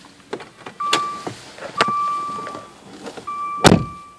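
Power windows on a 2013 Dodge Dart SXT whir in short motor runs, punctuated by sharp clicks and thunks from switches and locks, with a louder thud near the end.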